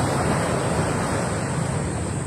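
Sea waves wash onto a beach shore in a constant, close roar of surf, with wind buffeting the microphone and no voices.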